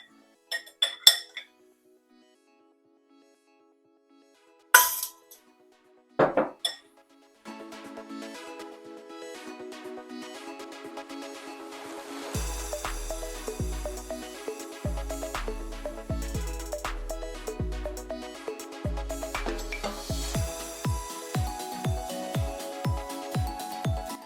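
Almond cookie batter is mixed in a bowl, with repeated bright clinks of a utensil against the bowl. The clinks fall in a quick rhythm over soft background music.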